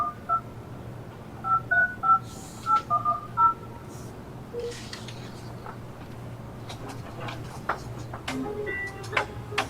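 Touch-tone keypad tones dialing into a WebEx meeting by phone: a quick series of about eight evenly spaced beeps, followed by quieter clicks and faint background noise with no talk.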